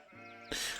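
Sheep bleating at a sheep farm in the Anno 1503 video game, a short wavering bleat followed by a louder burst of rustling game noise, all within under a second.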